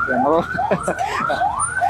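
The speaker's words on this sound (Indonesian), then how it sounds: "Oh, itu bukan ambulan ya? Ambulan." Ambulance siren wailing in rising and falling sweeps amid city traffic on a motorbike-taxi ride from Tomang to SCBD, Jakarta; the repeating wail stays steady and fairly loud throughout.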